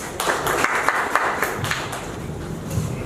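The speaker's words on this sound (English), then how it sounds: "Big round of applause for him." A small audience at a Google Developers Group and Toastmasters meeting claps, a sparse, uneven scatter of hand claps at moderate loudness with individual slaps standing out, fading toward a few lingering claps.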